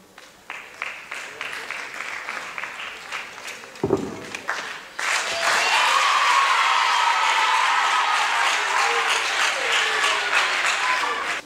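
A hall audience at a French debate on economic growth and sustainable development breaks into applause, scattered clapping at first, then a dense, loud, sustained ovation that fills the rest of the moment.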